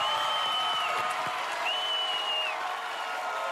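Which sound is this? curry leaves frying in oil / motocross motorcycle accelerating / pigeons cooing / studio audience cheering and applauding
studio audience cheering and applauding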